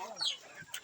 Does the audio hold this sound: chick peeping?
yes